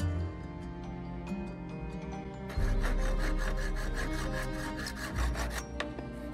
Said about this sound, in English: We measured the distance and cut a piece off with a saw.